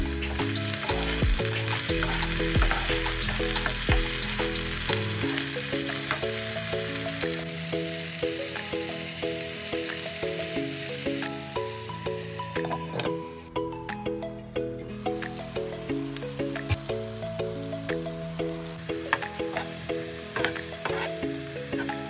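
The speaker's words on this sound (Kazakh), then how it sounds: "бәрін кезекпе-кезек салып, қуырып отырамыз" Vegetables frying in a pan for a meatless lunch, a loud continuous sizzle with stirring scrapes, while music plays throughout.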